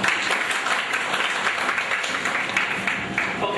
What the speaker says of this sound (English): A word of appreciation and a gesture of appreciation in the form of clapping is highly appreciable.